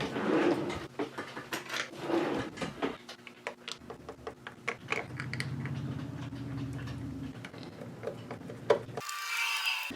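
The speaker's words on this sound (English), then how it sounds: "let's get those screws in there." Phillips head screws being driven into a JuiceBox case for a Raspberry Pi power supply, with close, intermittent scraping and rubbing as the screwdriver turns, ending in a short creak.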